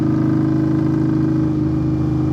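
A 2021 Indian Scout V-twin motorcycle with a Hacker Mayhem exhaust idles loud and close, a deep steady rumble with an even pulsing throb and no talk.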